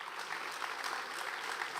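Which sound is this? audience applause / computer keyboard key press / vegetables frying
audience applause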